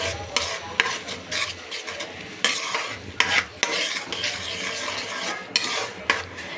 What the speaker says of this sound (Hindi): और अब हम अपने मसाले को पकाएंगे थोड़ी देर